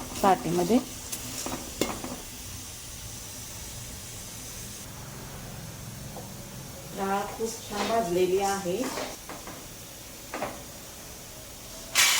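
Lentils dry-roasting in a pan for bhajani flour, with spoon stirring and scraping in bursts and a soft steady hiss, a voice speaking over parts of it.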